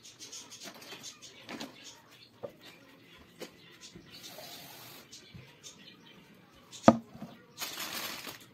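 Fruit is cut with a knife in a home kitchen, giving soft intermittent taps and slicing sounds, one sharp knock against a board, and a brief rustle near the end, fairly quiet and close.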